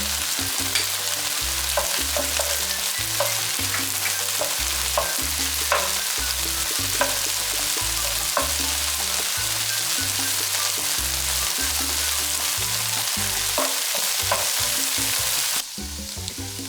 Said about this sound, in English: Sauté the garlic for about 30 seconds.